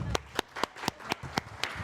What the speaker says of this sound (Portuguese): Gente, palmas para a Bia Serra